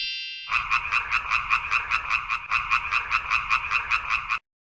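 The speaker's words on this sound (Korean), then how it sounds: "개구리 어려서는 물속에서 살다가 커서는 물 밖에 나와 사는 양서류 개구리?" A frog croaks in a steady, rapid series of about thirty loud, close calls, repeating evenly for roughly four seconds, alone with no voices.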